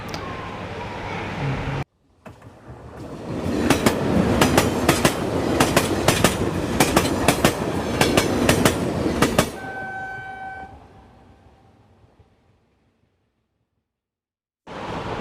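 A Pakistan Railways passenger train runs from Faisalabad toward Lahore, its steady loud rumble punctuated by repeated sharp clicks of wheels over rail joints, then slowing and fading with a brief squeal before near silence.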